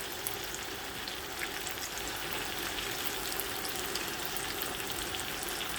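Spices fry in a pan for chicken kofta biryani, a continuous bright sizzle and crackle heard up close, steady from start to finish without talk.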